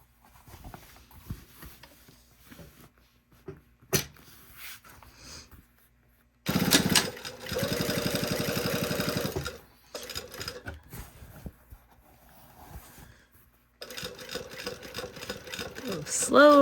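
A home sewing machine stitches slowly through the bulky zipper area of a garment sleeve, running in a steady motor whir for about three seconds after scattered handling noises, then again in longer bursts with light talk between.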